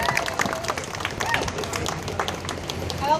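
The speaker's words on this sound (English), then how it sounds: "can we all give her a warm round of applause" Crowd at an outdoor rally in Ottawa breaks into applause, dense overlapping claps of moderate loudness with some cheering and chatter mixed in.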